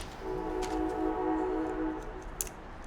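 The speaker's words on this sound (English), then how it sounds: "There's the train saying hello" A passing train sounds its horn as a sustained, steady tonal blare at moderate distance, heard indoors for about two seconds against a low rumble, with no talk.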